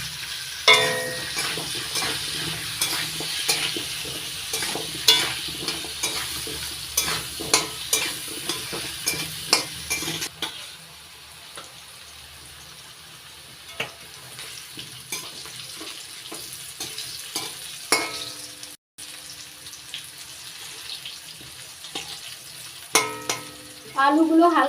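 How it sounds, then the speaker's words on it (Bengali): Potatoes frying in hot oil with salt and turmeric, a steady sizzle broken by repeated scraping and stirring clicks of a utensil against the pan, close by with no talk. "পরিমাণ মতো নুন আর হলুদ গুঁড়ো দিয়ে লাল লাল করে ভেজে নিচ্ছি।"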